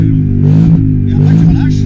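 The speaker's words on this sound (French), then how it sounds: "Et tu fais ton burn." A 2010 Ford Mustang V8 engine runs with a deep, steady throb and slight swells in pitch during a burnout, while people talk close by.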